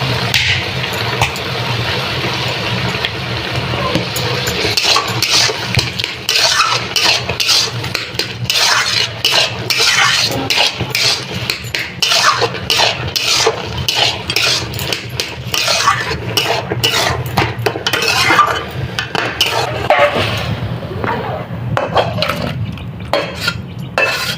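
Taro being stirred with turmeric in a cooking pan, with continual close scraping, clinking and wet squishing of a utensil working against the pan.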